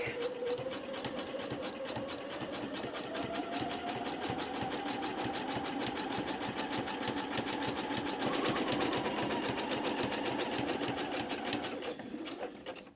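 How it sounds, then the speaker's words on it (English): A sewing machine runs continuously, stitching a zigzag seam that joins two edges of an autumn-themed art quilt, with a fast, even mechanical patter close up that briefly swells near the end before stopping. "That is the zigzag stitch joining those two edges together."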